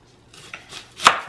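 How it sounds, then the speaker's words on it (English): A knife chops through an onion on a cutting board, a few soft cuts building to one sharp, close knock near the end, with no talk. "I try to cut the onion into pretty small pieces"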